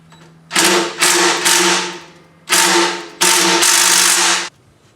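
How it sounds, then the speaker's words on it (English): An impact gun works loose the factory-painted oil drain plug on a 5075E tractor, firing loud rattling hammering bursts, two long runs separated by a short pause, close up with no talking. "I don't know if I'm going to be able to get it with the socket wrench or whether I'm going to need my impact gun."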